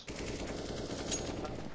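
Rapid automatic gunfire in CS:GO rattles out in a dense, continuous burst lasting the whole moment, loud and close, with no voices over it.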